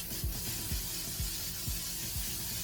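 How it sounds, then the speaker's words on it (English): A continuous fine hiss of L'Oreal Infallible Setting Spray runs throughout, with a soft rhythmic low thumping underneath. "we're gonna go in with L'Oreal's Infallible Setting Spray"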